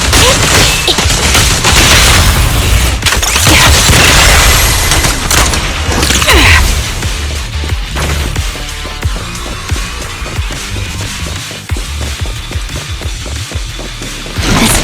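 Fire support gunfire and explosions in the action video game Zenless Zone Zero, loud dense booms and shots in a sustained barrage, easing into lighter rattling impacts.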